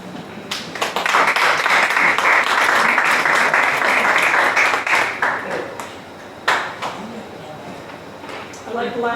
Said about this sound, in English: I like the last clap over there.